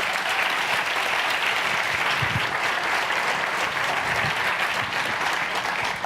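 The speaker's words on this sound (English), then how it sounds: "Let's give the two of them a round of applause as well." A packed room at the Ignite Buffalo Finals breaks into sustained applause for two people, a thick, uniform wash of many hands clapping at full volume for about six seconds.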